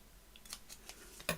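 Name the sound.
scissors cutting paper card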